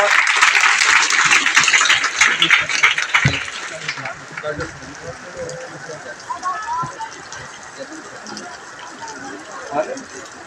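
Audience applause at a hospital inauguration ceremony, a dense burst of clapping that is loud for the first four seconds, then thins into scattered claps and crowd murmur.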